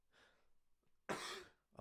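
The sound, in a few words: person coughing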